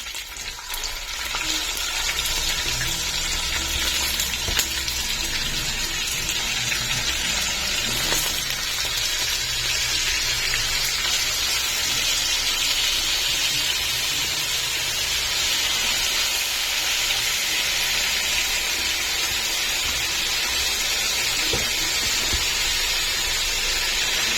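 Chicken pieces for Hyderabadi chicken dum biryani sizzle and fry in a pot, a loud steady crackling hiss running throughout with occasional stirring scrapes and no talking.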